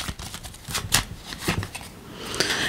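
A deck of tarot cards being cut and handled during a reading, a series of close, crisp papery riffles and flicks in short irregular bursts, with no talk.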